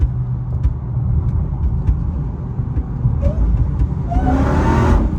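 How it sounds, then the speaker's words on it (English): A deep, continuous exhaust rumble from inside a moving Chrysler 300, swelling louder toward the end as the car accelerates, with no voices. "That noise that you're hearing in the back is from the exhaust."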